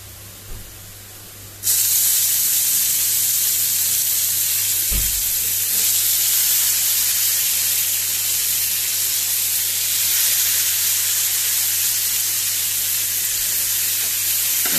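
Onion and tomatoes fry steadily in a pan, a loud continuous sizzle and hiss that jumps up sharply after a quieter start and then holds, with a brief clunk partway through; no one speaks.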